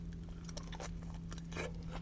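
Close, faint crunchy bites and chewing of a chile eaten with quesabirria tacos, several soft crisp bursts over a low steady hum.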